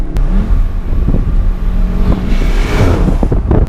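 A Volkswagen Golf R engine revs loudly and steadily, rising and falling with a throaty roar, close by with no talking.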